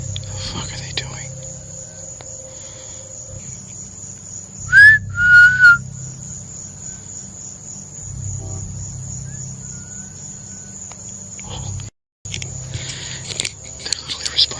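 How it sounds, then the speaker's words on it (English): A person whistles in the woods at night: a few short rising whistled notes rise over a steady chorus of crickets and insects, with a low hum beneath and a brief break near the end. "They're literally responding to my whistle."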